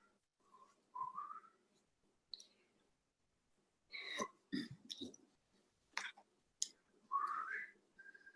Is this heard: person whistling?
yes